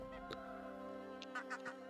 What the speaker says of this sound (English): I can hear the sumbitch squawking.